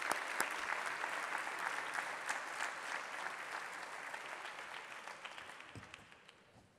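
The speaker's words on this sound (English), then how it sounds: "I will clap our hands for all the people that attended" Quiet applause from attendees at the end of a geotechnical and structural monitoring webinar: a thin, even patter of clapping that gradually fades toward the close.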